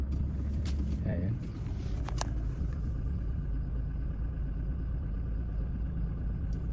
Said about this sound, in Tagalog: painitin ko lang yung makina niya